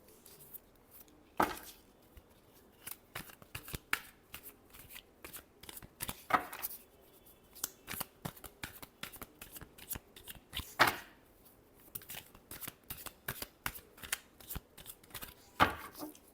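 Tarot cards are shuffled by hand close up, in bursts of crisp riffling and slapping spaced through a quiet background.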